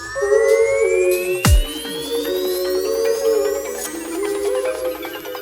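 A work-in-progress dubstep track transitions off time, with rising synth sweeps, a siren-like whine and a sharp downward bass drop, played loud without talk.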